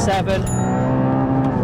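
A 2022 Porsche GT4 engine hums steadily at high revs, a continuous tonal drone inside the cabin, while someone speaks briefly over it.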